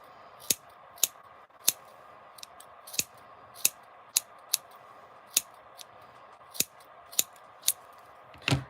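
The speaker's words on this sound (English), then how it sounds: "if you've got some really good sharp scissors, not children's scissors, that's the best thing to use." Sharp scissors snip yarn around a small pom-pom in a series of crisp, isolated cuts spaced about half a second to a second apart, close and fairly quiet against a faint background.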